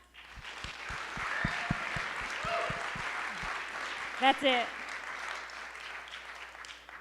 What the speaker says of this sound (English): Can we get a bit of a louder clap?